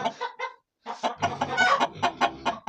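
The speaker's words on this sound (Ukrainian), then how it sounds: "Починайте квоктати. Фу, не квоктати, а куткудакати." Hens clucking and cackling in a farmyard, a busy run of close, repeated clucks with a brief pause before several birds carry on in quick, uneven bursts.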